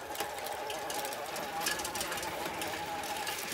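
Small engine of a motorized bicycle puttering along in a fast, even sewing-machine-like chatter, steady and moderately close with a faint voice in the background.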